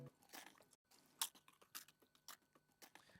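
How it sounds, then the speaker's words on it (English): Sampled chewing of a biscuit used in a studio beat: crisp, close crunches and bites in an uneven rhythm, with one sharp loud crunch near the middle, quiet overall and with no talking. "Yeah, what I was chewing, I sampled that first."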